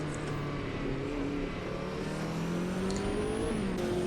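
A race car in Automobilista 2 drones along at steady speed, its engine tone rising and shifting through the revs with faint tire noise, moderately loud and continuous with no voices.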